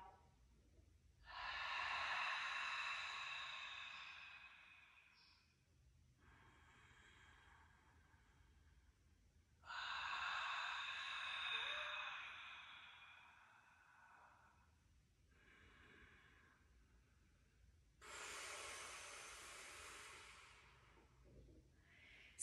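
Slow, deep breaths in a 90/90 breathing exercise: three long airy inhales, each trailed by a softer exhale, spaced several seconds apart, close and quiet with no talk.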